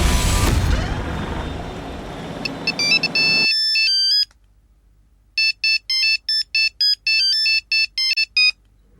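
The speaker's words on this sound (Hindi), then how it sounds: "अच्छा आप चिंता मत करिए, हम फोन करके देखते हैं उसको।" A phone rings with an incoming call, its melodic electronic ringtone sounding in repeated bright bursts with short gaps, loud and close, after a noisy opening that cuts to near silence.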